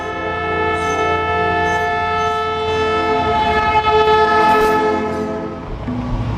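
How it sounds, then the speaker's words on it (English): A Darjeeling Himalayan Railway diesel locomotive horn blares in one long sustained chord, loud and near, with the rumble of the train underneath. "The new diesels lack the familiar whistle of the steam engine. In fact, their horns sound dangerously like"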